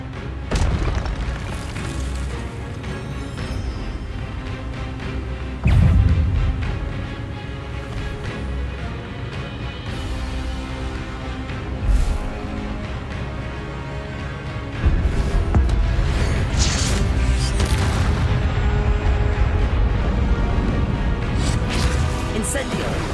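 Incendio fire spell blasts booming repeatedly in the Hogwarts Legacy video game, loud bursts at intervals with a heavier sustained roar in the last third, mixed under game music and a voice calling out spell names.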